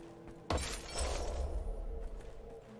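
Glass shattering in the shooter game Wolfenstein: The New Order, one sudden loud smash followed by a bright scatter of falling shards that trails off over a low background rumble.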